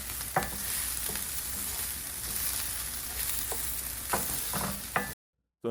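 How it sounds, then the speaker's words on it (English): Bell peppers char in a hot pan on the stove with a steady, crackling sizzle, punctuated by several sharp stirring clanks, before cutting off abruptly. "we go back to the stove where we're gonna char the bell peppers"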